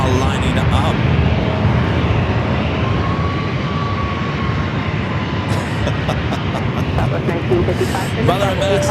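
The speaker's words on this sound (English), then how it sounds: "The flight to Minneapolis now lining up." An airliner lining up at San Diego airport for a flight to Minneapolis gives a loud, continuous engine roar with a thin tonal whine. Wind noise runs through it, and voices come in near the end.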